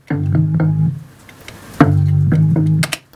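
A deep, sustained organ-like bass synth plays alone in two long held phrases with a short gap between them, warm and up front.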